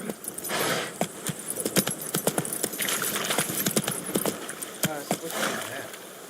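Horse hooves clip-clopping in The Witcher 3 game, a run of sharp, fairly close hoof strikes in an uneven trotting rhythm, with someone talking over them.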